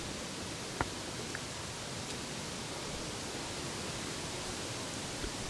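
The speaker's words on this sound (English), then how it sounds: "Road noise. Yes, road noise." Steady, broad rumbling hiss of road noise from BFGoodrich KM3 mud tyres while driving, a constant even wash of sound throughout, faint overall, with only a couple of tiny knocks and no voices.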